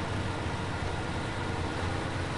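Truck engine idling in the video game SnowRunner, a steady low rumble throughout, faint and unbroken with no talk.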